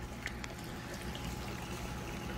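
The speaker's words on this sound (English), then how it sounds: "on the other end, like I said, they got the great big waterfall." Large waterfall spilling into an indoor pond at a big pet store, a steady soft rushing and trickling wash that runs evenly and fairly faint throughout, with no talking.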